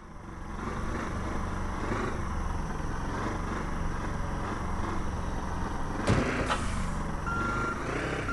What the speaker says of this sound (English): Now drive the truck away from the port area.